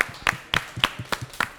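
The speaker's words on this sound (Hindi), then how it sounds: "तालियां बजाएंगे जी।" A studio audience on a Pakistani grocery game show claps a few times, sharp separate claps in a short uneven burst, close and clear.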